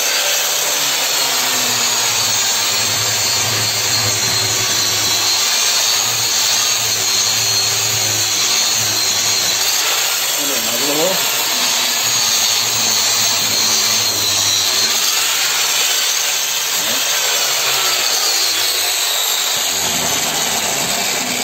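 An HMS 1070 planer-thicknesser runs continuously at close range, a loud steady mechanical drone with a low hum and rising pitch shifts partway through, and no voices over it.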